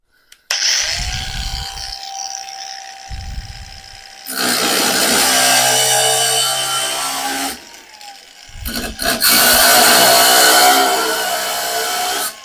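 Procraft AG125B cordless angle grinder cutting round steel bar at 4500 rpm, with short revving bursts, then long loud whining grinding stretches with a brief dip between, close and dominant.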